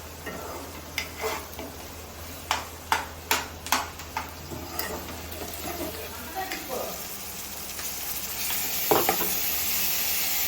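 Ginger paste fries in a pan with a close sizzle. Quick spatula clicks come early, then the sizzle swells into a louder, steady hiss, and a voice is heard at times.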